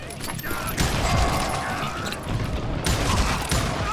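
Rapid volleys of gunfire from the Western shooter Call of Juarez: Gunslinger crackle almost continuously, loud and close, with game sounds and some voice mixed in.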